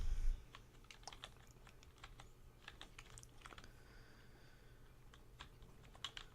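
Force of Will trading cards being shuffled by hand, a quick run of soft, light clicks and riffles, close and quiet, with no talking.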